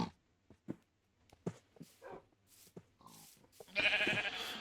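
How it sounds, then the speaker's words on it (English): Sheep bleat in the Minecraft video game: a series of short, scattered bleats and thumps, then a longer, louder bleat near the end. "I heard a sheep!"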